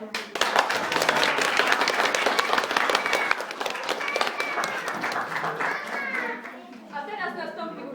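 Parents and children clap at a kindergarten induction ceremony. Brisk, dense applause carries for several seconds with kids' voices mixed in, then tapers off as chatter and a few scattered claps remain.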